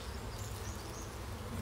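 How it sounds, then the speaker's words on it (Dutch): Honeybees buzz around their hives in Nijega, Friesland, with a couple of hundred in flight nearby, making a steady, dense, close hum that carries on without a break. "Wij zitten hier nog voor de bijen en er vliegen vast een stuk of 200-300 nou om u heen."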